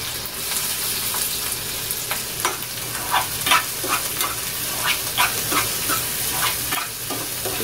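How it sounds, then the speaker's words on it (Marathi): Onion frying in oil with kokum and curry leaves in a pan, a continuous close sizzle broken by repeated stirring scrapes and spatters. "कांदा भाजून घ्यायचा चांगला."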